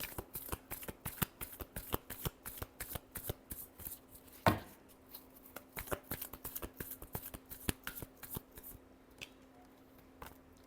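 Tarot cards being shuffled by hand, a fast run of crisp riffling snaps close up with one sharper slap midway, continuing steadily to the end.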